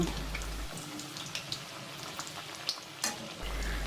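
Lentil and egg fritters fry quietly in hot oil, a soft steady sizzle with a few light scrapes and taps as a fork turns them, no voices.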